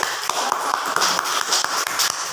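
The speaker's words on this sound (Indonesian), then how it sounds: "Tepuk tangan untuk kelompok 3." Classroom applause for a student group after a simple poster project, dense steady clapping from many hands at close range, continuing throughout without voices.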